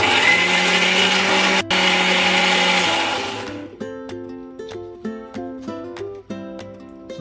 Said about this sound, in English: put it in the mixer grinder jar. And grind the onion into fine paste.